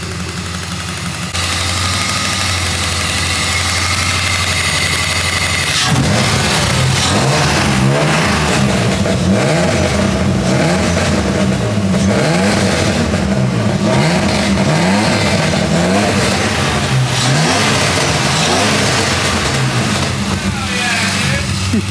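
A BMW E30 car engine runs steadily, idling and then revving up and down repeatedly in close, loud bursts over a continuous mechanical drone.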